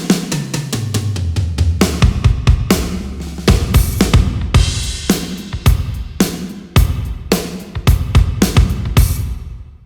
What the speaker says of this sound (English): But then if I just turn the ambience knob up.